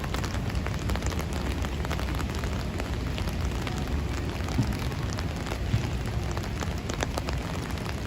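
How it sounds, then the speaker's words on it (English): Rain falls at night in Bryant Park, New York City, during a storm, making a steady, dense hiss of drops on hard surfaces with no voices. "Look at how cool the rain looks when it hits the light here."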